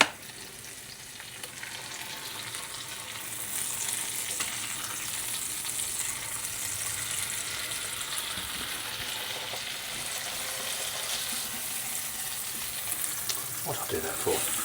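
Bacon and mushrooms fry in a pan with a steady, close, hissing sizzle that stays even throughout, plus a few small clinks near the end.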